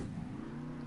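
Monster truck engine in Monster Jam Steel Titans during a donut: a brief, dense, steady engine roar, loud and close with a low droning hum throughout.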